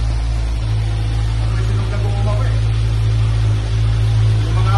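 A Kawasaki Z1000R motorcycle engine, just started and still cold, idles in a steady, loud, low drone close by, with faint voices in the background.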